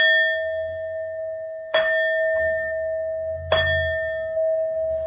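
Two clear bell strikes used to open and bless a tarot reading, each a bright ringing tone that sustains and decays slowly, with a soft low hum underneath between strikes.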